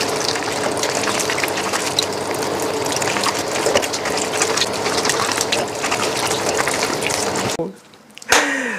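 Tap water runs in a loud, continuous gush while a large batch of peppers is rubbed and washed by hand, then cuts off abruptly, leaving a short clatter.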